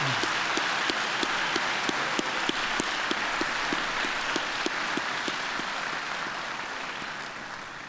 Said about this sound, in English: Let's have one final round of applause for all of tonight's deserving recipients.